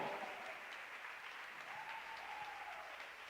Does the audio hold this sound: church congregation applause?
yes